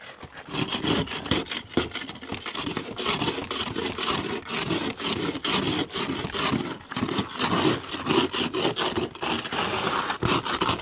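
A snow and ice scraper blade scrapes ice off a Tacoma, making rapid, rhythmic back-and-forth rasping strokes that are loud and close and continue steadily throughout.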